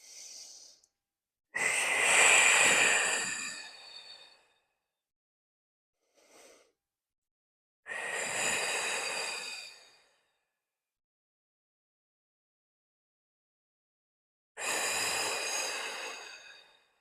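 Slow, deep breaths during a Pilates posture exercise, three long loud exhales spaced several seconds apart with silence between, plus a short faint breath earlier and one at the very start, close to the microphone.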